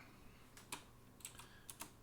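Computer keyboard typing during an online video game chat, a handful of faint, scattered keystrokes heard alone against quiet room noise.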